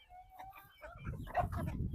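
Domestic chickens cluck in a farmyard as grain is scattered for them, the soft clucks growing louder and denser toward the end with low rustling from the flock.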